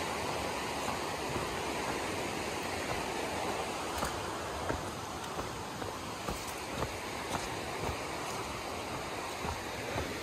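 A river flows through a shaded stretch of the Oze marsh, a steady broadband rush of water that stays even and fairly loud for the whole stretch, with faint ticks and footsteps in the foreground.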